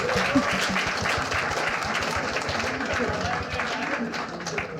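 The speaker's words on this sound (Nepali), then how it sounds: "जोरदार ताली भएको लागि" An audience at a Nepali comedy show applauds loudly, with dense, steady clapping filling the whole stretch while voices talk underneath.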